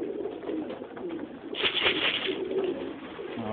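Domestic pigeons in a loft housing Danes and racing homers coo softly and continuously, a low murmuring bed of calls with a brief brighter flutter or scuffle in the middle.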